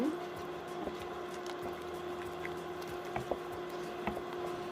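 A spoon stirs thick dough in a pot, giving soft irregular scrapes and squishy knocks over a low steady background hum.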